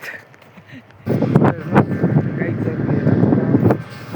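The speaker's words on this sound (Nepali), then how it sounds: "हावा कस्तो चलिरहेको रहेछ" Quiet at first, then gusty wind rumbles and buffets the microphone loudly and continuously, with faint voices underneath.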